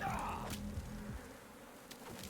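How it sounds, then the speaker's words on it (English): Buzzing bees swarm around a hive in a video game, a faint steady drone under soft game sounds with brief chimes at the start. "Because if I grab it and run away, the bees are gonna chase me."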